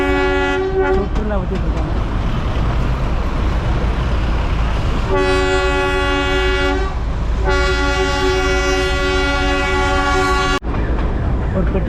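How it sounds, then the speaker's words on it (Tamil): Darjeeling toy train rolling past shops beside the track, its rumble and clatter loud and close, broken by long blasts of its horn, with someone talking over the noise. "இப்போ ட்ரெயின் ரைட் சைடில் போய்கிட்டு இருக்கு"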